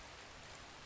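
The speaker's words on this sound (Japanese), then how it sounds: "外雨降ってんのか。" Faint, steady rain falls outside a shallow cave in the survival game The Infected, a soft continuous hiss of drops heard briefly from within the cave.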